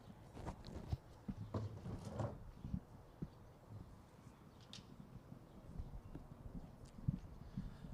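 Harness racing horses pace off at the start of a qualifier race, their hoofbeats clopping rapidly in a dense, somewhat distant patter over crowd and track noise.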